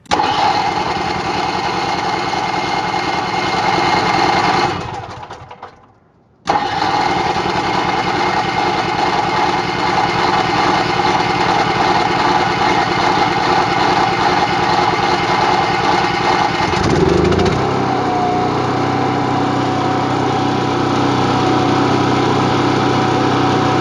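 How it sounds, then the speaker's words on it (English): An Onan Cummins 2800 RV generator runs with a loud, steady close drone, briefly cutting out for about a second before resuming its constant hum, later settling to a slightly lower tone. "now our generator is running"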